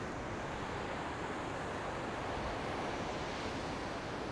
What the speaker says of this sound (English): Decided to make a stop at the beach because I needed to see the ocean.